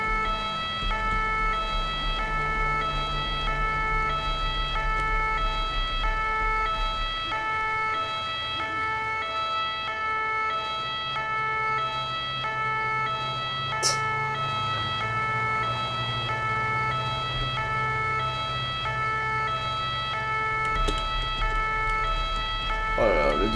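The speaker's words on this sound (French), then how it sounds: "Par contre, faut que tu arrêtes ton deux tons, ça serait juste pratique." A two-tone ambulance siren from GTA 5 wails steadily and loudly throughout, alternating between its two pitches beside a low vehicle engine rumble, with a couple of brief sharp clicks along the way.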